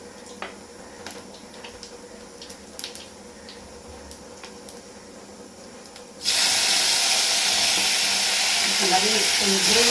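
Whole spices drop into hot oil for chicken biryani, and a sudden loud, steady sizzle takes over after a quieter stretch of kitchen clatter and faint voice.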